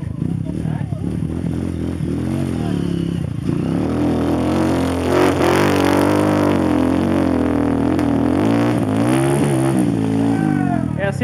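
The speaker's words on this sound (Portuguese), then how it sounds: "Viu? É de moto." Motorcycle engine revving and labouring as it climbs a dirt trail, loud and sustained through the whole stretch, with people talking and shouting over it.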